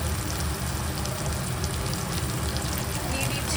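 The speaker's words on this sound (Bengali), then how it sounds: "এটা ততক্ষণ এবার কুক করবো যতক্ষণ না টমেটো তেল ছেড়ে দিচ্ছে" Tomatoes fry in oil for pav bhaji, making a soft, even, rain-like sizzle that runs without a break at low volume.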